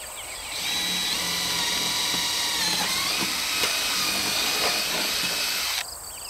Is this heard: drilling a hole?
yes